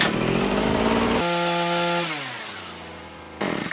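A cheap Amazon chainsaw runs loud and close, its engine revving high and then winding down steadily before a brief burst of throttle at the end.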